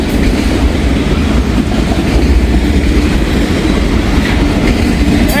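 A Norfolk and Western mixed manifest freight train rolls steadily past at close range, a loud continuous rumble of wheels and cars with faint rhythmic clatter and no voices.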